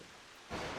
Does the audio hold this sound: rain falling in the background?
yes